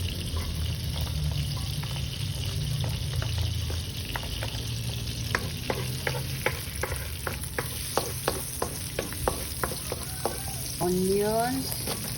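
Garlic frying and being stirred in a pan for a Filipino coconut-milk shrimp dish, with steady sizzle and a run of sharp spatula scrapes and clicks against the pan growing denser toward the end.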